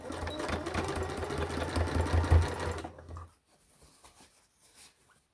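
A sewing machine stitches a handbag seam in a steady, fast mechanical whir for about three seconds, then stops, leaving a few faint handling sounds.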